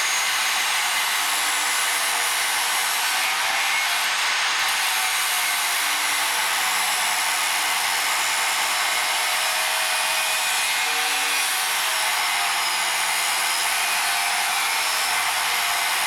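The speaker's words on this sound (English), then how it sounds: "Here I'm cutting the bevels as preparation for welding." Steel plate being cut along its edges to form welding bevels for a 100 kg anvil built from scratch, a steady hissing, grinding high-pitched roar that runs continuously and loud, with no voices.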